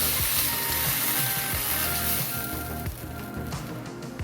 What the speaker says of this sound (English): Doing our Canadian bacon. We're just going to brown each side.